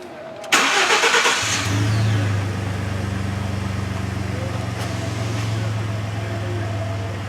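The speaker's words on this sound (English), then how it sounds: "so start the engine." A 2011 Ford F-150 pickup engine cranks briefly and catches, then settles into a steady, close idle hum that continues to the end.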